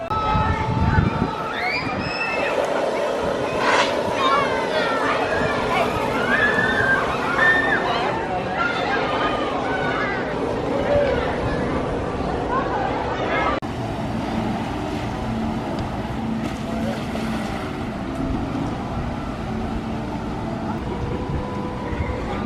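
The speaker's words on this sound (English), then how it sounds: "It's kind of a fun boat ride." Boat ride at a bear park in New Hampshire, with water sloshing and a boat moving steadily through it for the whole stretch, while people talk throughout.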